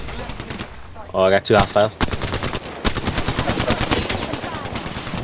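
Rapid automatic gunfire in a video game firefight: dense bursts of shots close and loud, with a voice speaking over the first shots.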